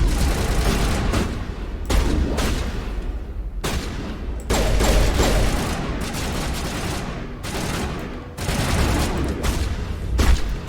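Sustained gunfire in the sci-fi shooter Mass Effect Legendary Edition, a dense, loud fusillade of rapid shots and bursts that runs almost without pause, with brief dips between volleys.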